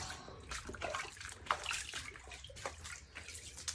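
Floodwater pours in and keeps rising during a Midwest storm in April, a continuous close splashing and trickling with irregular louder splashes and drips and no talk over it.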